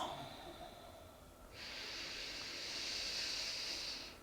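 Deep, slow breaths from someone seated cross-legged for yoga, heard close as a soft airy exhale that swells into a longer, louder rush of breath.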